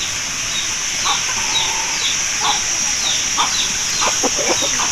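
An Aseel rooster, a show-winning fighting breed, gives soft, short clucks mixed with light chirping from other birds, all at a steady moderate level outdoors with no talking.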